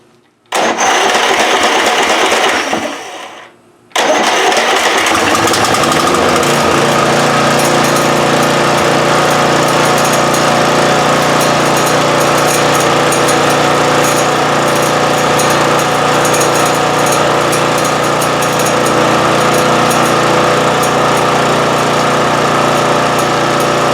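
A Toro Timemaster mower engine cuts out briefly, then restarts and runs loud and steady at close range, its buzzing drone carrying a persistent mechanical rattle throughout.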